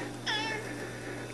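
A cat on a farm gives one short, clear meow, faint against a steady low background hum.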